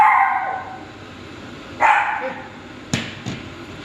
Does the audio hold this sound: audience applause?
no